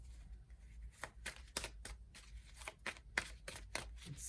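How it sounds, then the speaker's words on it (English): A deck of tarot cards is shuffled by hand, giving a string of soft, close papery flicks and slaps in an uneven rhythm, very quiet. "I'm going to shuffle these like normal."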